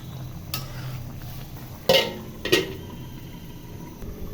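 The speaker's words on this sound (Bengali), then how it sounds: "মাছ দিয়ে আর একটু নাড়াচাড়া করে দিয়ে ঢাকনা দিয়ে ঢেকে দিব।" Rohu fish curry being stirred in a metal pot and then covered, a few clear clanks of a spoon and lid against the pot over a low background, up close with no talking.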